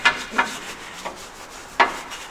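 Brush scrubbing the body of an old 1932 Ford roadster hot rod, a few short, dry rubbing strokes at an uneven pace, close and fairly quiet, with no talking.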